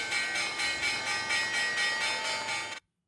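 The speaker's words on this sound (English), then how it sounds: "The bell's about to ring in 1 second." Stock market opening bell ringing, a loud rapid continuous clanging bell with a steady pulsing rhythm that cuts off sharply into silence, with no voices.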